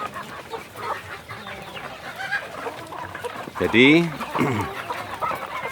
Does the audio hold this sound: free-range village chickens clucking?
yes